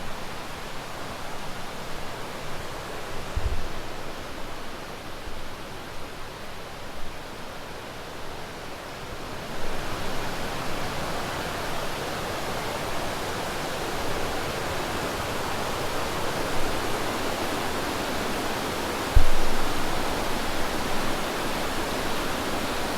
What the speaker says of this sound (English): Just let the sights and sounds take in around here at Niagara Falls.